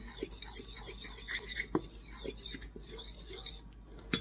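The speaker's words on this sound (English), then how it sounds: "a dry fork and just kind of pre-mix this stuff up with the fork" A dry fork scrapes and clinks against a bowl, pre-mixing dry ginger cookie ingredients in quick, light, close-up strokes, with scattered soft taps and one sharp clink near the end, no talking.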